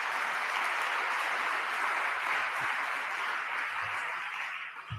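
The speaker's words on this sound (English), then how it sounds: "Give them a round of applause." Steady applause from an audience at a New York State gun violence press conference: a broad, sustained wash of clapping heard from a distance, easing slightly toward the end.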